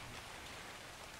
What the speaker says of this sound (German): es ist zwar im Regen